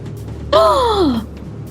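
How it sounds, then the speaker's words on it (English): A tabletop roleplaying player lets out one dramatic gasp, a short, loud, close voiced intake that slides downward in pitch and is over in under a second, set against quiet room hum. "I was thrown by the very dramatic gasp then"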